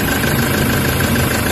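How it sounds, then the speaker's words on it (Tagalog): Toyota HiAce van engine with a check-engine fault, idling close up with a steady, rough drone and heavy shaking vibration, continuous and loud with no talk. "umaandar yung makina"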